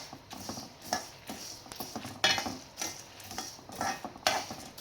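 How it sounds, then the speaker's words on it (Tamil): Asafoetida powder is stirred into homemade idli podi spice mix with a spoon, a series of soft scraping strokes punctuated by several sharp metallic clinks against the pan, close and fairly quiet, no talk. "பெருங்காயத்தூள் சேர்த்துட்டு நல்லா போட்டு ஃபுல்லும் நல்லா கலக்கி விடுங்க"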